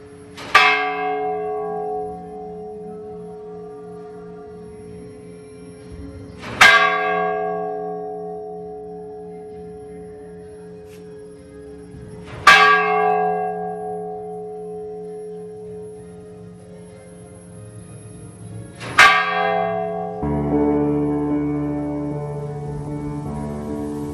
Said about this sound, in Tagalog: Kay sarap pakinggan ang tunog ng kampana